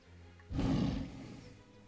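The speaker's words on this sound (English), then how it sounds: "I have no idea what that roar actually Let's did" A single deep creature roar in the fantasy video game Pillars of Eternity bursts out suddenly and loudly, then trails off over about a second.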